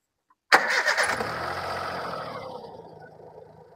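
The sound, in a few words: car engine starting and idling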